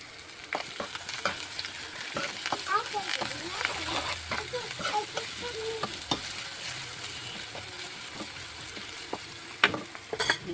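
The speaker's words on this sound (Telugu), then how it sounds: "తాలింపు ఎర్రగా వేసుకొని ఇందులో కొంచెం అల్లం వెల్లుల్లి పేస్ట్ చేద్దామండి" Ginger-garlic paste sizzles loudly in hot oil over a browned tempering while being stirred, with scraping and splattering throughout and a voice talking over it.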